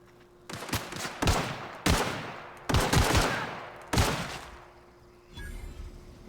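Gunfire from The Outer Worlds video game: several separate loud bursts of shots, each followed by a decaying rumble, spaced about a second apart, with no talking.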